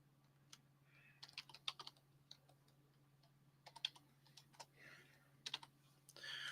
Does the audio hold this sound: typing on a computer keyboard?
yes